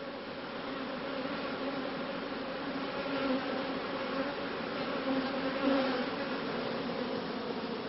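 A honeybee colony buzzes steadily around an open hive during a colony-temperament assessment, a dense, continuous hum that swells slightly at moments and is heard with no talk.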